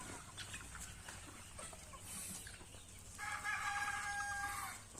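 A rooster crows loudly near the end, a long drawn-out call at a poultry farm, over a steady backdrop of chicken clucking and farmyard hum.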